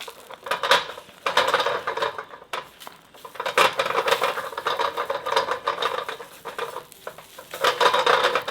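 Eggs for omurice stirred and frying in a pan, with repeated scraping and clinking of a utensil against the pan over a soft sizzle, in uneven bursts with short pauses.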